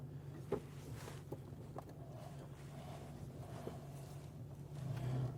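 A Ford Ranger pulling out of a repair shop on a test drive with an ABS light fault, a steady low engine drone and road rumble heard from inside, with a brief knock early on and the engine rising slightly near the end.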